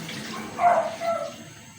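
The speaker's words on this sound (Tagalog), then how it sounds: "Lagyan natin ng konting tubig." A short splash of water poured into a pot, one brief gush then a smaller trickle, fairly quiet and close.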